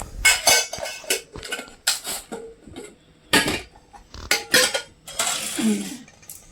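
Freshly washed bowls and dishes are set down one after another, each landing as a close, clattering clink of crockery and metal, in an irregular rhythm with short pauses between.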